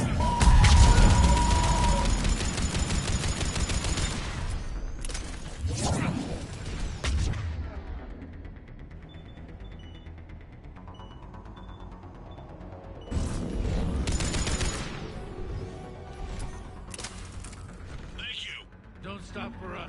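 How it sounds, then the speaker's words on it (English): Harvester opening fire on Turian forces in the Mass Effect 3 Legendary Edition game, with heavy mechanical booms and crashing blasts in loud bursts at the start and again later, amid rumbling battle noise and shouted voices. "Harvester firing on the Turians!"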